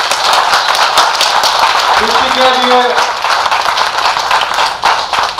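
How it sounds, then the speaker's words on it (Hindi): An audience at a Hindi comic poetry recital claps and applauds in a dense, sustained patter while someone speaks over it. "तालियां बजाइए"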